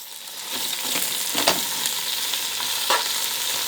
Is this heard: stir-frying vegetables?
yes